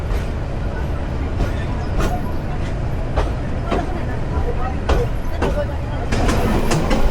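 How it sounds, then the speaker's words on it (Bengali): Passenger train pulling out of Bajitpur station in Bangladesh on the Dhaka to Kishorgonj line, a steady low rumble of rolling carriages with repeated sharp clacks from the rails and people chatting aboard. "এই যে আমাদের ট্রেনটি আবার বাজিতপুর স্টেশন থেকে ছেড়ে দিল"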